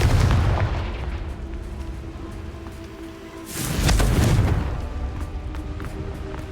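In the Hogwarts Legacy video game, a Confringo fire-blasting spell goes off in a deep, booming explosion. A low rumble is present throughout, and the blast swells loudly midway with no voice.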